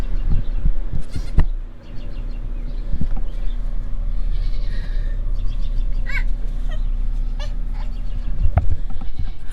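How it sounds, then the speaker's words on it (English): Baby goats, young twin kids, bleating from inside a tote, with several near, loud cries scattered over a steady background hum. "I now have a tote full of goats"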